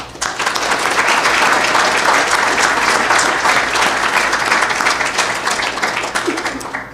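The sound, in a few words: round of applause from conference audience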